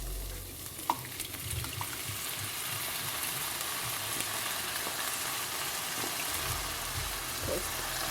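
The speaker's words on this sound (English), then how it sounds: "I'm going to add about a cup of my tomato sauce" Tomato spaghetti sauce sizzles and fries in a pan with softened onions and curry leaves, steady crackling broken by occasional scraping stirs, close and fairly loud.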